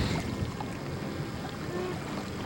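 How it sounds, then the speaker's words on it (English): Canoe paddled along a channel of the Mississippi Delta, faint soft splashes and water movement under light wind noise, quiet and steady. "We're now actually paddling, heading toward the Mississippi."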